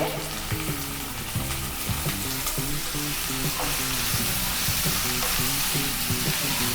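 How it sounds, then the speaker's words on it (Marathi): Onion and tomato frying in oil in a kadai for restaurant-style kadai paneer: a steady, close sizzle with frequent scrapes and clinks of a spatula against the pan, continuous with no talking. "कांदा भाजून घेऊ, टोमॅटो पण भाजून घ्यायचा आहे।"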